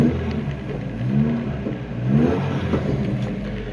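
Engine and exhaust of a Toyota 4x4 pickup with an oversized muffler, heard from inside the cab: a steady, fairly quiet low rumble with a slight swell partway through, no talk.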